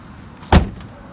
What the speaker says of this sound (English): unlock the doors, pop the trunk, lock the doors